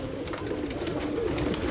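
Recently fed female pigeons in a farm loft coo in a dense, steady rolling murmur, several birds close together and fairly loud, with no talking.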